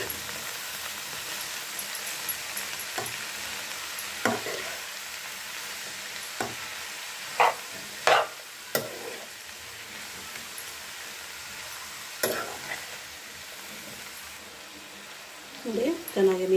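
Cooked cabbage and beans are stirred in a hot pan, with a soft continuous sizzle and a few sharper scraping and clinking strokes of the spoon against the pan.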